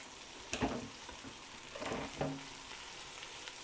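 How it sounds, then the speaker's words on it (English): Minced meat dropped into a pan of frying onions, a quiet low sizzle punctuated by a few soft thumps and scrapes as the meat goes in and is stirred. "because the heat is already really intense, I'll just add the mince"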